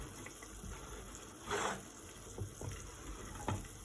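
Water boiling in a pot for Thai tom yum goong, heard as faint bubbling with soft gurgles and a few louder bursts over a low background hum.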